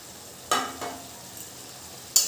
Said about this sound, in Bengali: এবার আমি দিয়ে দিচ্ছি 1 চামচ চিনি, আর দিয়ে দেবো ভেজে রাখা আলু